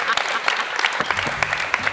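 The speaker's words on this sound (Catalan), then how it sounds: "Un fort aplaudiment" An audience applauds during a Catalan TV show, dense continuous clapping from a studio crowd, loud and close, with a voice speaking over it.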